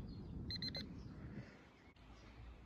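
A Dr Otek waterproof pinpointer metal detector gives three quick, close electronic beeps in a row, followed by quiet background hiss.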